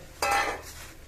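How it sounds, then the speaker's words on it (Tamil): A spoon stirring puffed rice (pori) into hot jaggery syrup in a pan for a festival sweet, a single brief scraping clatter that rises sharply and fades within a second. "இப்போ வந்து நம்ம இந்த பொரியை போட்டுண்டு நல்லா கலந்து விட்டுடலாம்"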